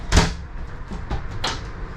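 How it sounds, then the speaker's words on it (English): A sliding bathroom door in a Winnebago Minnie Plus 26RBSS RV rolls and thumps shut, with a firm knock at the start, a softer rumbling glide and a second bump near the end. "And these are those really great sliding doors here."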